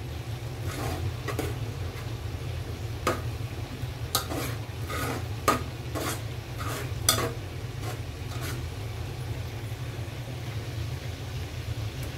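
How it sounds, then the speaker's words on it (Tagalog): A spoon stirs corn soup with pink salmon in a pot, making soft, irregular scrapes and light taps against the metal over a steady low hum. "Continue ko lang po yung paghalo nito."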